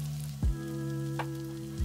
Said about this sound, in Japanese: 基本は放置、時々かき混ぜながら焼き付けるように炒めるイメージで、